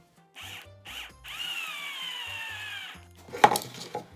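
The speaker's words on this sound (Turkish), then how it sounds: "Kaymasın diye üzerinden vida alacağım." A screw is driven in to hold the blade of a homemade plastic bottle cutter, giving close, short whirring bursts from a driver, then a longer steady run, followed by a sharp clack and small knocks at the end.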